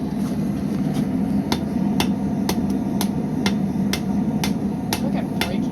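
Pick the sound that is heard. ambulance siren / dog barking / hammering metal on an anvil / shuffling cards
hammering metal on an anvil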